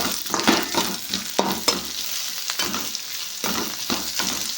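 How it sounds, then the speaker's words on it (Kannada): Fried bitter gourd and onion stirred in a hot pan, a steady close sizzle broken by repeated scraping strokes of a spatula throughout, with no talking. "ಈಗ ಇವು ಹಾಗಲಕಾಯಿ ಹುರಿದು ಇಟ್ಕೊಂಡೆಲ್ಲ ಅವು ಹಾಕಕತ್ತೀನಿ ನೋಡ್ರಿ."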